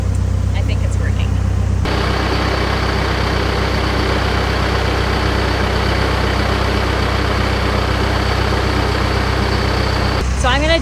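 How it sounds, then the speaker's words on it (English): A tractor engine idles close by outdoors near a bee swarm, its exhaust blowing toward the listener. The low, steady rumble is loud and unbroken for most of the stretch. "I want to shut the tractor off though, because the exhaust is blowing right over here"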